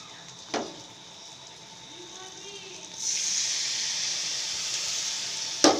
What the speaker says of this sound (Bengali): এটাতে জল দিচ্ছি।